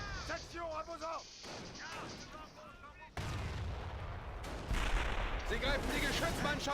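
Grenade blasts and gunfire in the Company of Heroes video game, a World War II battle, boom and crackle in repeated bursts. A French voice talks over them and a German soldier shouts.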